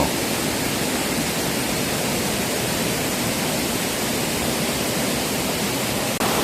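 Fast, swollen mountain stream in Heukseok valley rushing over rocks, a loud, steady broadband roar of churning water filling the whole clip without pause, close by and unbroken.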